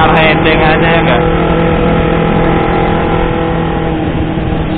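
Motorcycle cruising on a quiet Jakarta road, steady mid-range engine drone with a low hum and rushing wind, loud and close throughout, with brief faint chatter near the start.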